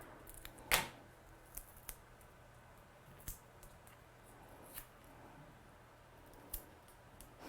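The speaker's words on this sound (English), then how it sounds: "I'm just trimming these big pads down for speed really." Scissors trimming large adhesive foam pads for a watercoloured shaker card: one sharp close snip, then scattered quieter cuts and clicks spaced a second or more apart, no voices.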